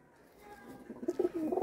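Pigeons at a border-area pigeon sale in Jammu give soft, low cooing calls that build into a few close, throaty coos toward the end, faint against quiet background.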